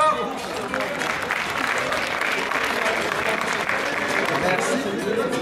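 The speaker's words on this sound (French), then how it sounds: "On l'applaudit bien fort." A tournament audience gives a contestant loud, sustained applause, dense and continuous, with voices faintly mixed in.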